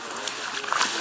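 Hot water pours from a small bucket over a big hog being scalded for skinning: a short, continuous rushing splash with a voice faintly underneath.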